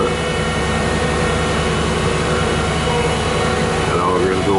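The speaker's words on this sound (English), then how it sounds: "That auger's going again. Pulling in the asphalt." An asphalt paver's auger churns hot asphalt on a residential street being paved, giving a loud, continuous heavy machinery drone that holds steady throughout.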